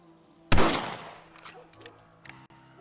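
A single sharp rifle shot in Red Dead Redemption, loud and close, followed by a decaying echo, with faint scattered sounds and light background noise afterward.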